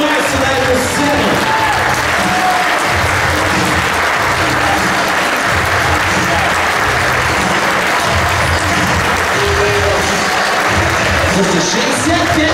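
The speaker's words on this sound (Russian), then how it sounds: "Друзья, аплодисменты Николаю Тихоновичу." Sustained loud applause from an indoor audience at a football fan meeting as a guest takes the stage, steady clapping throughout with a few voices in the crowd.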